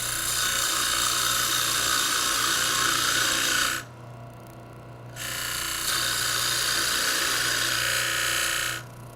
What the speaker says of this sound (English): Now I'll switch to a parting tool, create a tenon about 1 inch in diameter here.